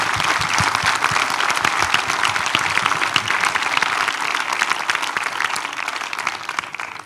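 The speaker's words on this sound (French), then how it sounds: "Je pense qu'on peut les applaudir." Audience applause for two speakers at the close of a conference talk on the SWOT satellite and ocean and climate monitoring, sustained loud clapping from a large crowd that slowly thins toward the end.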